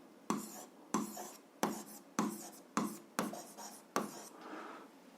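Pen strokes scratch across paper while an algebra solution is written out, about seven short, evenly spaced scrapes, close and fairly quiet, with no talking over them.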